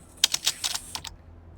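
Brief burst of about six quick keystrokes on a computer keyboard entering a console command for Skyrim, close and crisp, then silence.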